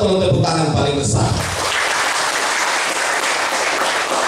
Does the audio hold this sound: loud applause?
yes